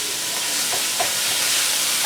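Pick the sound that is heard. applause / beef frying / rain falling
beef frying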